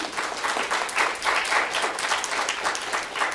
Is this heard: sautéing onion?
no